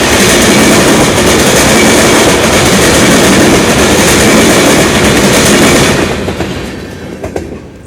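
A Canadian Pacific crude oil train rolls loudly and close through a railway junction, its cars producing a continuous rumbling roar with rhythmic clickety-clack over the rail joints, fading away over the last two seconds.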